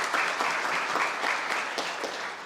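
Warm applause from a graduation ceremony audience for honored guests at a medical college, steady dense clapping that holds throughout at an even, fairly loud level.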